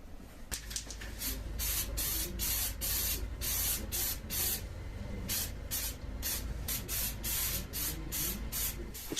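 Chipping coating is sprayed from a can onto the welded underside of a Honda Super Cub frame in bursts of close, sharp hissing, many short sprays repeated in a quick irregular rhythm.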